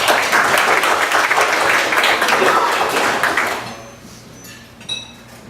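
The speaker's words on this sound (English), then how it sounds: "Round of applause for our" A meeting audience claps for a visiting speaker, a dense, loud round of applause that fades out after a few seconds, leaving a quiet room with a faint clink.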